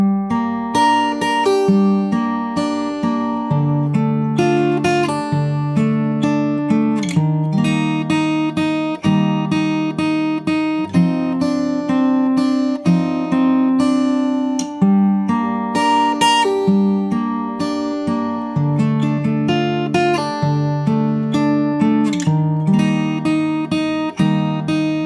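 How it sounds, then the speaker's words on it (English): Fingerstyle acoustic guitar plays the pre-chorus of a song, with steady picked chords and a melodic line over bass notes, close and clear with no talk. "So that's the entire pre-chorus. I'll play the whole thing again. It sounds like this."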